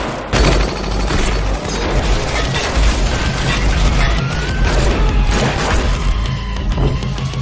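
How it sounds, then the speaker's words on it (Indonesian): Dense, continuous gunfire from a film gunfight between loyal henchmen and an opposing squad, with loud overlapping bursts and crashing impacts filling the whole stretch, with no talk. "di tengah baku tembak antara anak buah setia Mukun dengan pasukan Herta"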